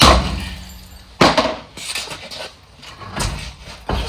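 A dead blow hammer strikes a stuck wheel on a Chevy truck, giving a few loud, sharp knocks spaced about a second apart with short ringing decay between them.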